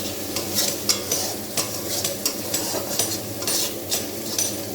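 A spice paste of onion, garlic, ginger, tomato and chili frying in a pan, a constant close sizzle broken by regular scraping clinks of a spoon stirring against the metal, with no talk.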